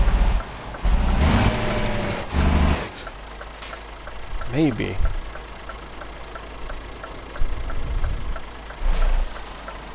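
Truck engine idling and revving in Euro Truck Simulator 2, a low steady rumble with a few louder bursts of revving, along with an air brake hiss and talk over it.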